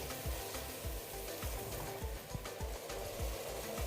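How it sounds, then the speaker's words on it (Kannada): Sliced mushrooms fry in a pan for mushroom biryani, giving a steady close sizzle and hiss broken by regular knocks and scrapes of stirring. "ಈಗ ಕಟ್ ಮಾಡ್ಕೊಂಡಿರೋ ಮಶ್ರೂಮ್ ಸೇರಿಸ್ತಾ ಇದ್ದೀನಿ. ಒಂದು 2-3 ನಿಮಿಷ ಚೆನ್ನಾಗಿ ಫ್ರೈ ಆಗಬೇಕು."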